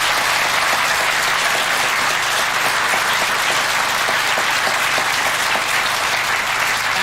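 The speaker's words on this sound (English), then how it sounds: "Would you give them a round of applause?" A studio audience at a TV entertainment show claps loudly and continuously, dense applause filling the room throughout with no break.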